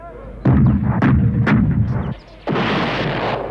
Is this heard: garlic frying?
no